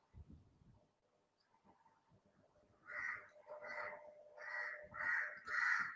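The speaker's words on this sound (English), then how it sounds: "Don't bother about the crow sound." A crow caws five times in a row from fairly close, each caw harsh and short, rising in loudness toward the end after a quiet stretch with faint background noise.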